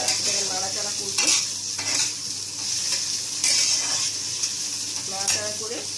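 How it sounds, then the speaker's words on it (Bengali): Onion, capsicum and green chilli stir-fry in a hot pan, a loud continuous sizzle broken by repeated scraping strokes and clinks of a utensil against metal. "তারপরে পেঁয়াজ, ক্যাপসিকাম আর কাঁচা লঙ্কা একটু দিয়ে দিই। এটাকে নাড়াচাড়া করবো।"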